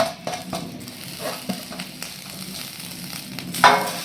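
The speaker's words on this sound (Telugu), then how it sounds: "కడాయిలో మనం ఒలిచి పెట్టుకున్న పూల రెక్కలు ఉంటాయి కదా ఆ రెక్కలు మొత్తం వేస్తున్నాను" Peeled flower petals go into a hot kadai on the stove, giving a light, uneven sizzle with scattered crackles and a brief louder burst near the end, no voices.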